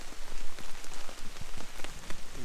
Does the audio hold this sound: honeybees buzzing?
no